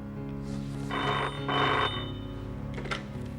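A telephone bell rings in two loud bursts, with a brief pause between them, in a quiet indoor scene of a Hindi horror drama, and a faint further ring follows.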